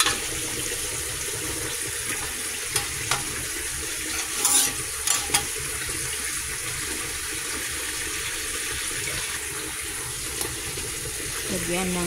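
Water pours into a sizzling pan of shrimp and vegetables, giving a steady hissing wash with a few clinks and stirring scrapes. The sound is close and continues throughout.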